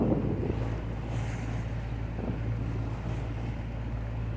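A sailboat motors through rough, windy open water between Caribbean islands, with a steady low engine drone under constant broadband wind rush and wave wash, no voices.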